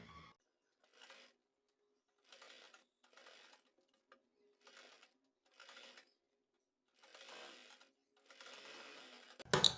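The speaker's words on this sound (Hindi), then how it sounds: "इस सिलाई के ऊपर इस तरीके से हम अपनी लेस को फिट करते हुए सिलाई लगाएंगे सीधी" A sewing machine stitches lace onto a salwar hem in short whirring bursts of about one second, separated by silent pauses, with a louder clatter at the very end.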